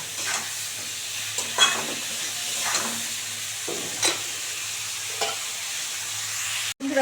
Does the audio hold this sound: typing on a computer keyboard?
no